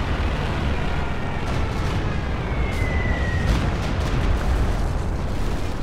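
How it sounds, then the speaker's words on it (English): Stuka dive-bomber bombing run explosions in Company of Heroes 2 make a dense, continuous roar of heavy blasts and crackling bursts, loud and sustained, with a faint whistling streak through the middle. "I love these Stuka bombing runs that, like, disable their shit."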